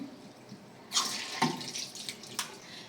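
Running tap water splashes in a sink as a face mask is rinsed off, quiet at first, then bursts of splashing and rubbing at the basin, close by.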